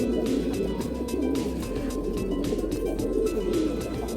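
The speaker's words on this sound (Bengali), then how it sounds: "বুড়ি জাতের কবুতর।" A pair of Buri breed pigeons cooing: repeated low, throaty, pulsing coos that roll along steadily over a few seconds, close by, with no talking.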